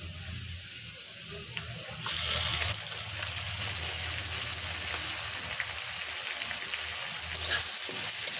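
Shrimp fry with chopped onion and ginger garlic paste in a pan, a soft steady sizzle with a brief louder hiss burst early and faint stirring, no voices.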